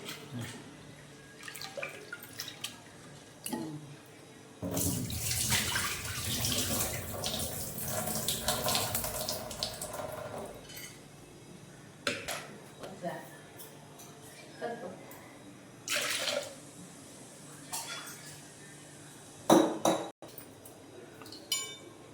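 Green chilies rinsed under a running kitchen tap, a loud rush of water pouring into the sink for several seconds, then quieter splashes, drips and light clinks, with some voice in the background.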